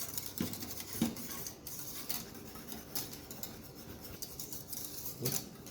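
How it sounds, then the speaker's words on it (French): A whisk scrapes and clicks faintly against a saucepan while pastry cream for a strawberry tart cooks, soft irregular strokes with a few sharper taps, no one talking. "Et là on fouette."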